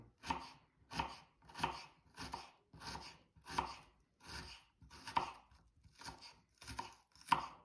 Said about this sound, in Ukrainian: Тоді нарізаємо цибульку. Дрібненько.